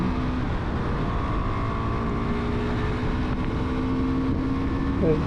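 KTM Duke 390 motorcycle engine running steadily under acceleration, a continuous loud drone with strong wind buffeting over the microphone throughout.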